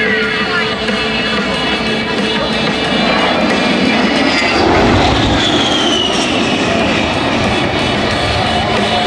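An A-10 Thunderbolt jet flies a strafe attack near an airport, a loud, continuous engine roar that swells in the middle and then sweeps away in a descending whine.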